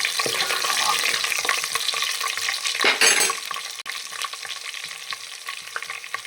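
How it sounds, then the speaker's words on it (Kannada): Sliced onions fry in hot oil in a pot for mutton keema sambar, a steady bright sizzle throughout, briefly louder midway when stirred, close and without talk. "ಈರುಳ್ಳಿ ಹಾಕಿದ್ದೀನಿ, ಎಣ್ಣೆ ಹಾಕಿ"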